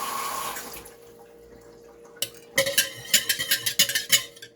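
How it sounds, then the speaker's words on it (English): Tap water runs into a sink while bread dough is rinsed off after a failed attempt, heard as a soft steady flow followed by louder splashing and sloshing bursts near the end. "I had to rinse it in water."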